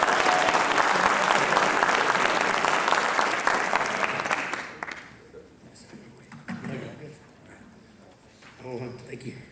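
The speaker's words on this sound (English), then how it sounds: "let's give him a big round of applause" A school audience applauding a poet at a student writers expo, dense clapping that fades out midway, followed by scattered voices and room noise.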